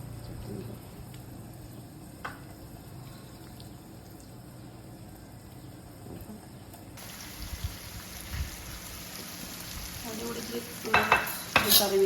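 Shrimp frying with ginger-garlic paste in coconut oil, a steady low sizzle with faint stirring clatter that grows busier and a little louder toward the end, no talking.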